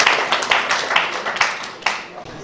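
Audience in a full hall clapping together at a Nigerian aviation safety gathering, a loud dense patter with rhythmic surges that fades slightly toward the end.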